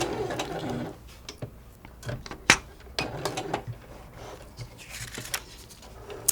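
Sewing machine stitching fabric while turning a corner, heard as several short bursts of rapid mechanical stitching broken by clicks and brief pauses, close by and with no talking.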